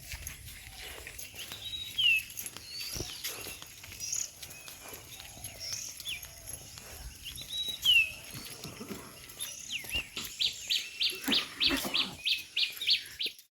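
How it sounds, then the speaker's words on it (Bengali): Several birds chirp and call intermittently nearby, bright short notes scattered across the clip, ending in a quick run of rhythmic chirps. "সকাল সকাল এরকম পাখির কিচিরমিচির ডাক শুনতে কি ভালো লাগে না"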